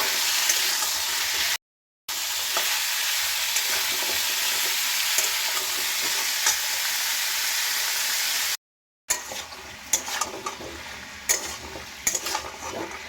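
Soaked chickpeas sizzle loudly and steadily as they are stirred while frying in a pan, with a continuous hiss broken by two brief silences and, near the end, crisper scraping clicks.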